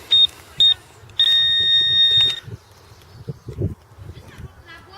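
A Garrett 300i metal detector sweeping over buried coins gives several short, high electronic beeps and then one longer sustained tone, while someone speaks close by and there is scuffing in the ground.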